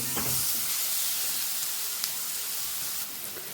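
Finely chopped red tomatoes sautéing with spices in hot oil, a steady bright sizzle close up with a few faint clinks of stirring, no talking.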